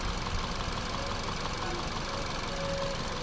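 A 2017 Suzuki Ertiga engine idles steadily with one ignition coil connector unplugged, giving a continuous close mechanical rumble with a faint knocking texture and no voices.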